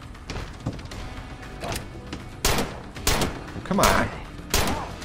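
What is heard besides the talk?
gunfire in the video game State of Decay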